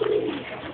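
White roller pigeon giving a short, soft cooing call, close and alone, a single low throaty note lasting under a second.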